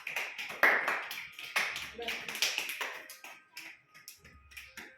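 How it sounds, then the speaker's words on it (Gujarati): Children clap their hands in scattered, uneven bursts of sharp claps and taps, fairly faint, with an adult voice speaking and children's voices mixed in. "તાળી પાડો"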